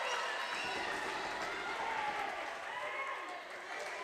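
A crowd cheers at a girls volleyball match between Mountain View and Los Altos, a steady roar of voices and clapping filling the gym while an announcer talks over it.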